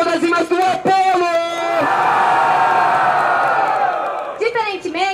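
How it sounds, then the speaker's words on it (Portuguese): Crowd at a trap-edition rap battle final erupts in loud, sustained cheering and shouting after an MC's call for noise, with the host talking over the start and end. "Muito barulho pra quem gostou das rimas do Apolo!"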